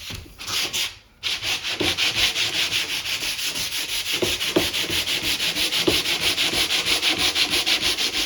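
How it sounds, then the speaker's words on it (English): Steady, loud sanding of particle board furniture during a restoration repair, a continuous rhythmic rasp of strokes with one brief pause near the start, close up and with no talking. "So we've already sanded the finish off right there."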